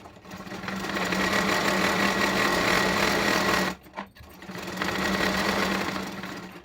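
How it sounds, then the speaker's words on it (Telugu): A sewing machine stitches ties for a blouse back neck, running in a loud steady whir, pausing briefly near the middle, then starting again and running on. "ఇలా కుట్టుకోవాలి మొత్తాన్ని సన్నగా ఇప్పుడు మళ్ళీ దాని మీద ఇంకొక కుట్టు వేసుకోవాలి"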